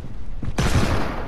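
Flintlock pistol gunfire in the Fortnite video game: one sharp, loud shot bursts out partway through and leaves a broad, noisy tail, with no talk over it.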